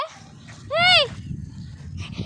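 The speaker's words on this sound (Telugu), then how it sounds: "గైస్ డాగ్ వచ్చింది గైస్, పోగొట్టండి గైస్ దీన్ని" A dog gives a single short, rising-and-falling whine or yelp close by, standing out clearly against low background murmur with faint rustling around it.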